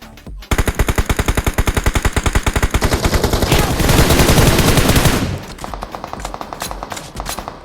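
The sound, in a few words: gunfire in video game BGMI PUBG Mobile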